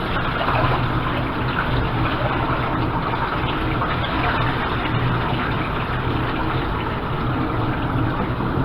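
Rinse water from washed grains being dumped out in a steady, loud, continuous gushing pour, close up with no pauses.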